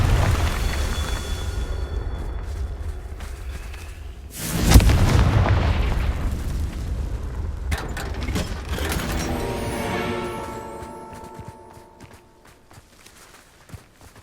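Confringo fire-spell explosions in the game Hogwarts Legacy, a rumbling low boom that swells sharply midway, followed by ringing, tonal magical debris and mechanical clatter that fade out toward the end, with no talk.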